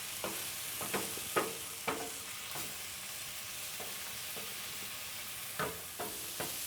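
Berbere shiro mix sautéed in a pan, with a soft steady sizzle under a series of scraping stirs, close and fairly quiet.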